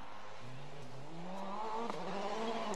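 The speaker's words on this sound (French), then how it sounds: "Vraiment l'attaque sur cette Ford de l'équipe M-Sport Qatar." M-Sport Ford rally car from the Qatar team attacking a dry, snow-free stage at the Monte Carlo rally, engine note climbing steadily through the revs, moderately loud and continuous with no talk.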